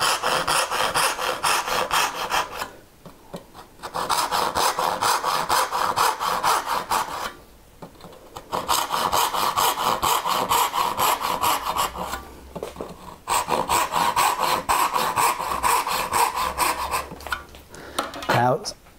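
Hand saw cutting dovetails straight down to the baseline in wood, a steady rhythmic rasp of repeated strokes in four long bursts separated by short pauses, close and clear.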